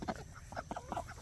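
Chickens and ducks make a short run of soft clucks and quacks, five or six quick, faint calls close together in a backyard flock.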